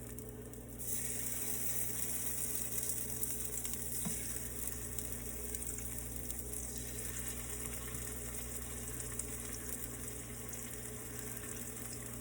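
Ribeye steaks sizzling in hot vegetable oil in a pan, a loud, steady crackling hiss that starts abruptly and holds evenly for several seconds, close up with no talking.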